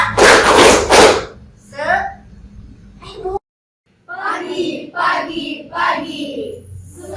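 Schoolchildren in a classroom clap hands together in a short, loud, close rhythmic burst lasting about a second, after which children's voices speak over a quiet room.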